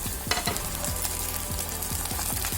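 Onion, green chillies and curry leaves fry in a hot pan with a steady, close sizzle, while a spoon stirs through them in regular scraping strokes.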